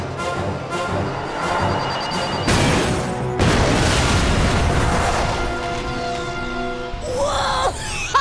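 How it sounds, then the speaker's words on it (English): Ratchet: Deadlocked on PS2 delivers a loud, sustained explosion that rumbles and crashes for several seconds after a few sharp pops, then tails into ringing debris and a final whooshing burst. "Check out that explosion!"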